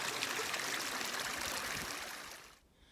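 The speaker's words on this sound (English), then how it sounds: "So here's what the creek looks like." A mountain creek near Star Lake on the Tahoe Rim Trail flows steadily with a broad, close rushing and trickling wash that fades away in the final moments.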